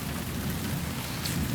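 Steady rain falls throughout in an Iranian film drama, a dense, even hiss of drops with a low rumbling undertone and no voices.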